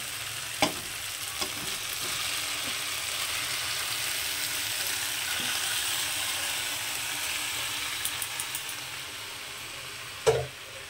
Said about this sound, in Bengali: এখন আমি এই পর্যায়ে যে সবজিটা আমি সেদ্ধ করে রেখেছিলাম, তো সেই সবজিটাকে দিয়ে দিচ্ছি ঢেলে